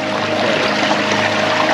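A small trail creek rushes and burbles steadily at close range, a dense continuous wash of water with no voices.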